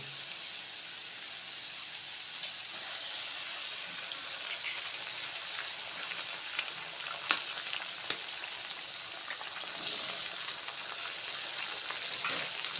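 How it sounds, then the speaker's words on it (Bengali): Two beaten eggs sizzle in a hot pan with fried tomato and onion for masala Maggi, a continuous soft crackle with occasional stirring scrapes, fairly quiet and without talk. "ঝুড়ো ঝুড়ো করে ডিমটা আমি ভেজে নেব"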